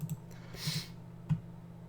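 A computer mouse clicks a few times while playing the browser game Margonem, crisp close taps spaced irregularly with a faint soft rustle between them.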